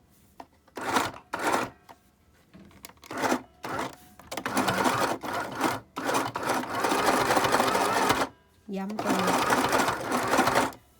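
A sewing machine stitches ear loops onto a fabric face mask in loud bursts of rapid needle chatter, stopping and starting, with short pauses between runs.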